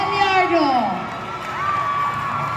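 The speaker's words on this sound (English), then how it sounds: "I think I hear our crowd" A crowd at the Puerto Princesa Queen of Queens 2022 pageant cheers and shouts for a candidate, with high whoops and voices rising and falling throughout, steady and close.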